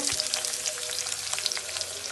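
Steady hissing sizzle of onions and cumin frying in hot oil, close and continuous with small pops throughout.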